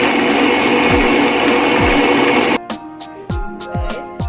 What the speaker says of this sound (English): With a stand mixer, it'll take about 7 to 8 minutes straight.